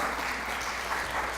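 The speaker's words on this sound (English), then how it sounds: "Let's applaud ourselves." An audience at a motivational talk claps together in steady, even applause that fills the whole moment, with no voices over it.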